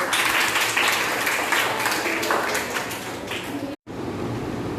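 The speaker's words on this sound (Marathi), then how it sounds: "चला बरं एकदा आपल्या सर्वांसाठी टाळ्या होऊन जाऊ" A group claps together in sustained, dense applause during a school activity session. It stays steady and loud, briefly drops out near the end, then resumes.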